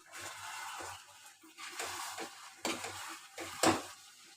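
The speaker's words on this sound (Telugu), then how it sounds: "ఇప్పుడే పోపు పెట్టి" Spices tempering in hot oil in a pan while chicken curry is cooked at home, with a few sharp bursts of sizzling and crackling alongside clattering stirring and pot noises, close and moderately loud, no voices.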